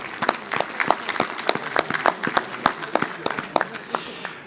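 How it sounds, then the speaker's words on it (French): Scattered hand claps from an audience at a mayor's New Year's wishes ceremony greet a senator, each clap sharp and distinct over a quiet room, uneven in rhythm and moderately loud. "Ah ben voilà, on peut l'applaudir aussi."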